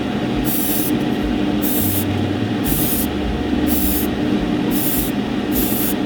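An airbrush or spray can lays a first coat of paint on a Gundam model kit in short, regular hissing bursts, about seven of them, close and fairly loud over a low background hum.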